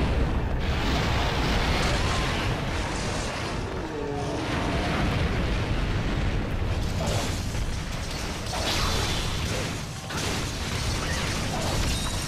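Heavy cannon blasts and rumbling booms from a Monster Hunter XX battle against a G-Rank Ferocious Deviljho, a dense, loud wash of explosions and mechanical clatter with no voices.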